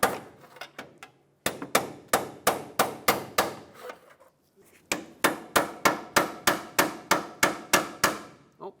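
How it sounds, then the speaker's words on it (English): Repeated hammer blows on a pry bar wedged against the intermediate steering shaft of a 2009-2014 Ford F-150, freeing it from the power steering rack: a few light taps, then two steady runs of loud, evenly spaced metallic strikes. "I'm going to stick my pry bar in here and hit it with a hammer."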